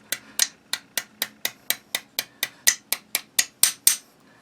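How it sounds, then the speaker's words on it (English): A hammer drives a roll pin into the trigger assembly of a Derya RIA TM22-A rifle: about fourteen sharp metallic taps in a steady, even rhythm, close and clear with no voices. "hammer the roll pin all the way in"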